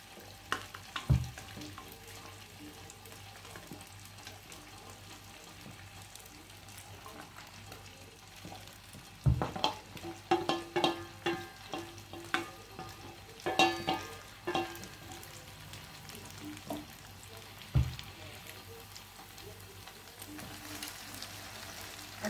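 Onions for kebab sauté in a hot pan, a continuous soft frying hiss with occasional sharp clanks and a busy burst of stirring and scraping midway.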